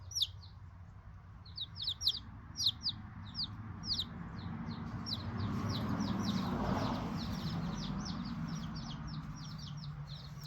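Marans chicks chirp in quick high peeps alongside softer clucking, bursts of bright calls repeating through the recording over a low background hum in a coop setting.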